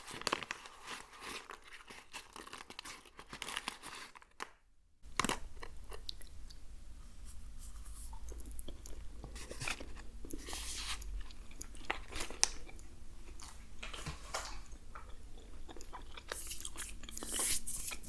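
Gum being chewed close up in a whispered ASMR setting, with soft wet smacking and crinkly clicks repeating steadily after a brief quiet gap, no talking.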